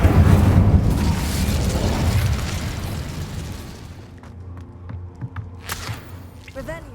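A fiery Incendio spell burst in the video game Hogwarts Legacy roars loud and close at first, then fades into quieter thuds and footsteps.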